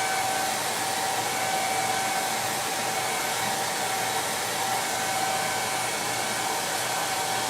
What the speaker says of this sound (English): I'm just going to touch it up with the dryer really quick.